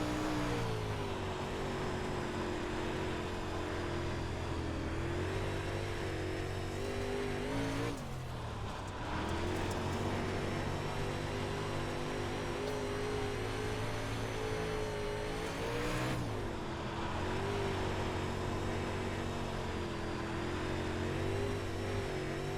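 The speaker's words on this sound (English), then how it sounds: "Definitely need a shorter gear, not revving up as much as I want." Race car engine in the iRacing sim at Weedsport, a loud steady drone revving high with two sharp dips around gear shifts, continuous and alone.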